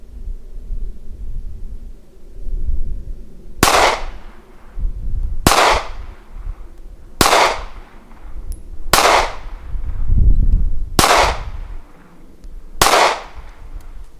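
Six sharp, loud pistol shots from a Smith & Wesson Bodyguard 380 firing Hornady rounds, spaced a couple of seconds apart outdoors, each a hard crack with a short ringing tail over low wind noise.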